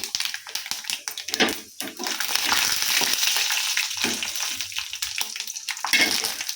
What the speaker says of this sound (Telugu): మిరపకాయలు చూసారా వేగిపోయాయి తాలింపు తినుసులండి